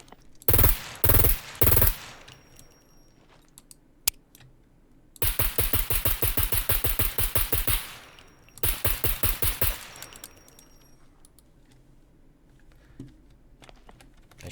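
A suppressed 9mm weapon in the game SCUM fires a few loud single shots, then long rapid full-auto bursts, crisp and close with short pauses between strings.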